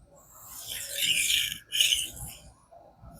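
A knife blade rasps across a King whetstone in two long, close strokes separated by a brief pause, with quiet scraping continuing afterward.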